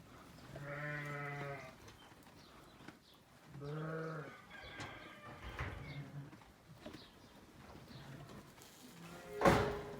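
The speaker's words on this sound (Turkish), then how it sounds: "Bir de şu kuzularımıza bakalım." Young lambs bleat repeatedly nearby, several separate calls spaced out over the stretch, with faint background rustling and a sharp noise near the end.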